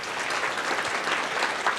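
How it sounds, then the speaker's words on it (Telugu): Audience applause, a dense burst of clapping from a crowd at a talk, steady and fairly loud through the whole short stretch. "గట్టిగా చప్పట్లు కొడదాం."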